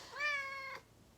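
A pet cat gives a single short, clear meow, close and fairly soft, followed by quiet room tone.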